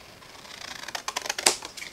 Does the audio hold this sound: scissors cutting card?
yes